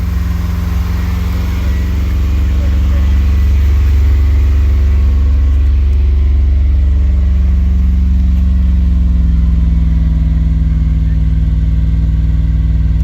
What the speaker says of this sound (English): One car running and driving.